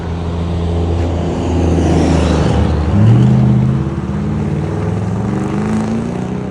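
A deep, steady engine rumble from the exhaust of a 2017 Nissan Titan 5.6L V8 pickup with a 14-inch Magnaflow muffler, swelling as it revs up briefly and then settling back to a low, throaty idle.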